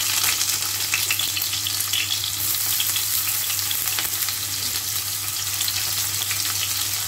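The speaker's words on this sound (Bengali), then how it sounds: "প্রথমে পেঁয়াজ কুচিগুলো দিয়ে নেব" Chopped onion fries in hot oil with a steady, close sizzle throughout, joined by soft stirring scrapes and a constant low hum underneath.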